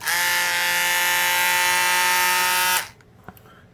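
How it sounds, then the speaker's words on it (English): A Ryobi detail sander buzzes loudly with a steady high-pitched vibration for nearly three seconds, then cuts off, leaving a faint click. "they just have a little spindle that vibrates"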